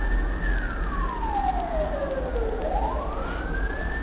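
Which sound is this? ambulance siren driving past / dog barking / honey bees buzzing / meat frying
ambulance siren driving past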